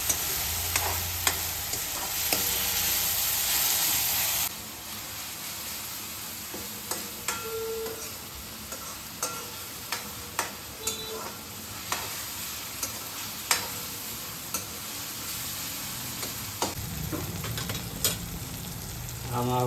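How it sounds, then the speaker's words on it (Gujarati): Tomatoes cook in a pan for Kathiyawadi vagharelo rotlo, with a constant close sizzle and scattered light taps and clinks of stirring over it, louder at first and then settling to a softer simmer, with no voices. "ટમેટા આને પણ થોડી વાર ચડવા દઈશું."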